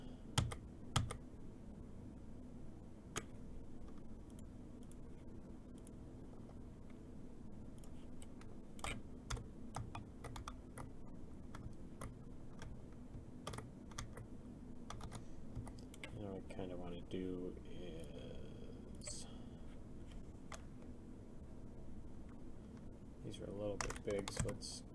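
Computer keyboard and mouse clicks tap out in scattered bursts throughout, fairly close, over a steady low hum and background game sounds.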